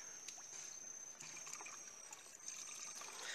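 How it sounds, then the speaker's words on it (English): Soapy laundry water trickles and drips into a bucket as clothes are wrung out by hand beside a river, a faint, steady dribble with small splashes throughout. "Now we have been wringing out the soap water, like Bente is doing now"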